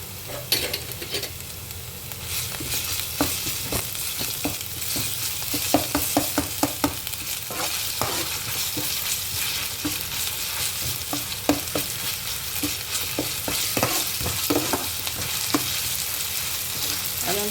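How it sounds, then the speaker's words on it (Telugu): Ginger garlic paste fries with onions in oil, a constant sizzle under frequent clicking scrapes of a spatula stirring the pan, close and busy throughout with no talking. "అల్లం వెల్లుల్లి పేస్ట్ మనకు కొంచెం ఫ్రై అయిన తర్వాత అంటే దానికి పచ్చివాసన పోవాలి కదా"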